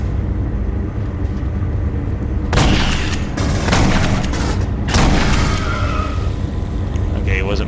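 Shotgun blasts in the Aliens: Colonial Marines video game, three heavy booming shots with rumbling tails spaced a couple of seconds apart, loud and close, with a player's voice talking around them.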